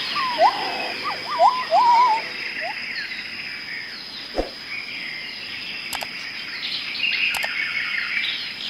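Birds chirp in short, bright bursts near a waterfall at Burgers' Zoo, over a steady wash of water and insect-like hiss, with a few faint clicks, heard from a short distance and without speech.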